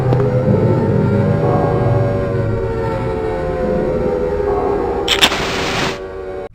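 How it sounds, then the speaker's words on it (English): A town siren wails in the Silent Hill horror video game, a sustained droning tone with layered harmonics that holds steady for several seconds before a brief sharp burst and a drop-off. "First, you hear a siren go off in the distance, an alarming noise that echoes throughout the entire town."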